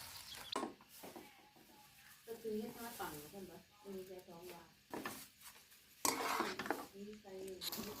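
Cabbage with fried garlic is stir-fried in a pan, with a quiet scraping and clanking of a utensil against the pan that comes in bursts under someone talking steadily.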